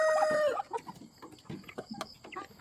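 Chickens cluck and call in a yard shared with ducklings and chicks, a rooster-like crowing tone at the start followed by a scatter of short, close clucks and chirps.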